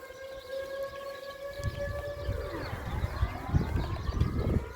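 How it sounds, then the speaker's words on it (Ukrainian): An outdoor civil defense siren in a Dutch village, sounding its monthly noon test, winds down and then rises again, droning loudly above low background rumble. "Отак вона звучить у нашому селі."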